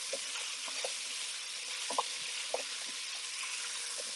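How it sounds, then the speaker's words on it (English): Vegetables stirred into a sizzling pan of coconut curry, a soft steady hiss broken by light scraping taps of the spoon every half second or so, no talk. "Let's stir that in."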